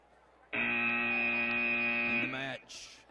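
A loud electronic buzzer from a VEX robotics competition match timer sounds steadily for about two seconds at a qualifier event, then stops as crowd noise and a voice continue.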